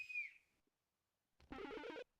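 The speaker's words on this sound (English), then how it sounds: "Mario whistle." A short rising-and-falling cartoon whistle from the Mario video game character, heard alone, followed after a pause by a brighter burst of game jingle sound.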